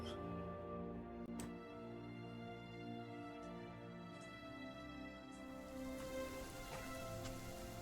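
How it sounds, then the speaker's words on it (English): Steady rain falls as ambient background in a tabletop role-playing game show, a continuous even patter at moderate level with no talk over it. "Sound of the rain comes back to you."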